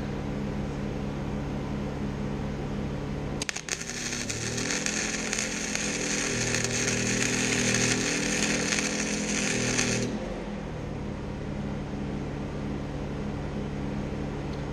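Flux-core wire welding with Hobart wire, a harsh, crackling buzz that starts abruptly after a steady background hum, holds for about six seconds, then stops.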